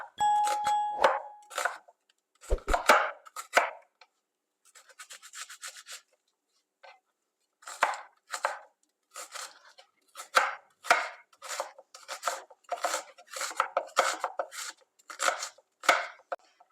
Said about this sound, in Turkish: Öncelikle bir adet kuru soğanımızı yemeklik olarak güzelce doğruyoruz.